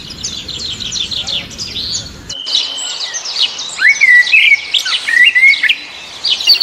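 Many birds chirp and trill in dense overlapping song at a zoo aviary in Surat, with a brief low rumble early on before the calls continue clear and fairly close.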